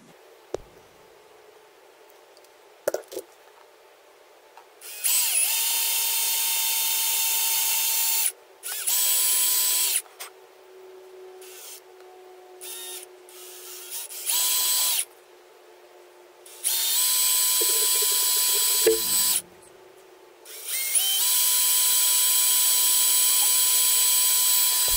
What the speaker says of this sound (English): Okay, we got our holes drilled